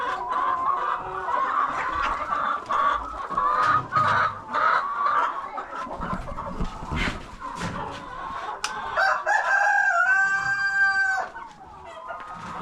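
Village chickens cluck continuously in the evening, close and loud, and a rooster gives a long crow near the end.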